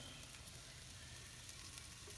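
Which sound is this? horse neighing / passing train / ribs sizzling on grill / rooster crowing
ribs sizzling on grill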